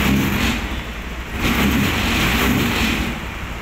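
A car engine with a faulty throttle body sensor revs up hard in two surging bursts, a steady loud roar rising and falling close by with no talk.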